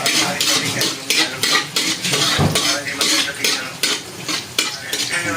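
A utensil scrapes and stirs garlic in a hot pan over a charcoal fire, with steady sizzling and rhythmic metallic clinks repeating close by, and no talking.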